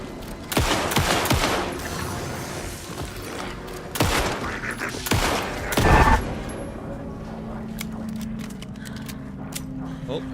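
Gunfire in the video game Alan Wake 2, with several sharp loud shots and a heavy blast amid rumbling game sounds, then quieter ambience.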